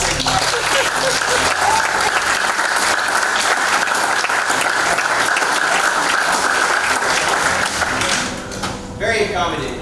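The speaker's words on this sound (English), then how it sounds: "please give a round of applause for the church here." Sustained applause from a concert audience inside a church, dense clapping filling the space for several seconds before thinning out toward the end.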